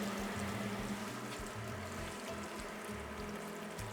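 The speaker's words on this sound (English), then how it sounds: "we gradually add our what is now very reduced broth, bit by bit" Reduced broth is poured bit by bit into Cuban shredded beef in a pan, giving a soft continuous trickle and splash set close against a low background hum.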